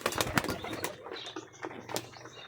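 Pigeons coo and flutter nearby, with soft wing flaps and scattered bird calls over a busy outdoor background.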